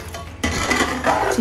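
A spoon or ladle clinks and scrapes against a metal pot while a Kozhikodan chicken dum biryani topped with ghee gets mixed. The stirring is short and close, rising into a louder scraping after a brief quiet start.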